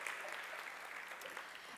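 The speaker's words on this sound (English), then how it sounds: "Round of applause for our volunteers." Audience applause for volunteers at a spiritual talk event, a dense, steady wash of many hands clapping at a distance, fairly faint and continuous throughout.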